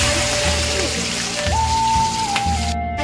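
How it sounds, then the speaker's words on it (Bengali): Prawns frying in hot mustard oil, a steady crackling sizzle throughout, fairly loud and close, alone with no voices over it. "আমি সর্ষের তেল নিয়ে নিয়েছি সেটা গরম হয়ে গেছে এই তেলেতে আমি চিংড়ি মাছগুলোকে"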